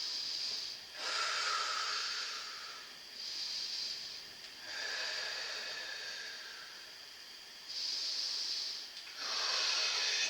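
Slow, deep breaths during a yoga pose come close to the microphone, with alternating long inhales and exhales as airy hisses in a steady rhythm, about three full cycles, with no talking.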